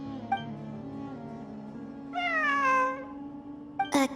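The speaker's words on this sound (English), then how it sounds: "It really is a cat." A single cat meows in Genshin Impact, a clear rising then falling call lasting under a second, heard over a quiet steady hum with faint soft clicks around it.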